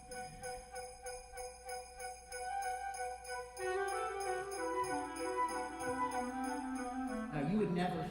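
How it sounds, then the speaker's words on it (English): The jester's bells open Mahler's Fourth Symphony, a pulsing jingle of sleigh bells over soft flute figures, with strings swelling in midway into a gentle orchestral texture at moderate volume. "The symphony begins with what Mahler calls the jester's bells."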